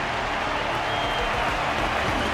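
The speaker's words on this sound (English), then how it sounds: "Their constant applause is a salute to this resilient Belabogian fighter." Steady, dense applause from a large crowd in the video game Honkai Star Rail, continuous and fairly loud throughout with no pauses.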